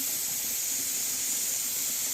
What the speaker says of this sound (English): Now you can see the steam and you can hear the hissing.